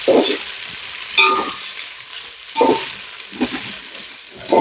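Ingredients fry lightly in ghee for bagara rice and get stirred. Soft background frying is broken by a few distinct, fairly loud stirring scrapes about a second apart, close by and with no talk.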